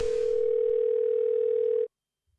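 A telephone dial tone in the point-and-click game Thimbleweed Park: a steady, loud, unbroken tone that holds for nearly two seconds, then cuts off abruptly into silence.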